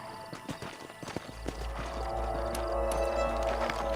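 Horse hooves clip-clop in the Red Dead Redemption video game, a steady trotting rhythm under a low rumbling ambience and a swelling music bed, with no voices.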